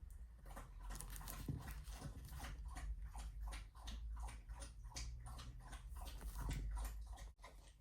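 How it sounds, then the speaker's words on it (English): A dog moving about indoors, faint rhythmic pattering and soft snuffling or whimpering sounds continuing throughout at low level. "And here's the dog again."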